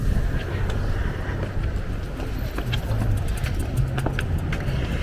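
Wind buffets the microphone on the seaside promenade at Maspalomas in the Canary Islands, a loud, steady low rumble with faint distant background activity.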